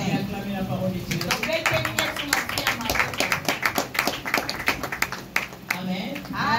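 Church congregation clapping in acclamation during a sermon, a rhythmic burst of many hands growing denser and then easing, with voices mixed in.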